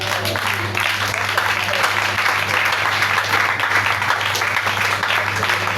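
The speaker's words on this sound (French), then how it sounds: "Acclame Jésus." A church congregation applauds steadily throughout, a dense, even wash of clapping from many hands with no pauses, fairly loud and close, with voices mixed into it.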